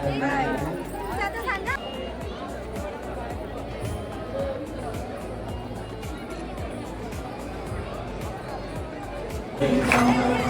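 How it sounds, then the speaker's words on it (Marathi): Dense crowd chatter at a large Chhatrapati Shivaji Maharaj temple, many voices babbling together at a steady level, with one nearer voice speaking over the hubbub toward the end. "आज गर्दी पण खूप होती"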